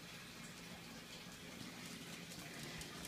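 Water gushes steadily into a bathtub being filled for a dog's bath, a continuous broadband rush that holds even throughout, close and fairly loud with no talk.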